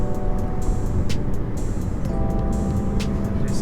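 A Lexus GS300 on new coilovers drives along, heard as a steady, dense road and engine roar with occasional light knocks, close and continuous.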